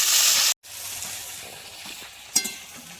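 Potatoes hit hot oil tempered with dried red chilli, panch phoron and black cumin, giving a loud hiss that cuts off sharply, followed by a softer steady sizzle and a brief clatter.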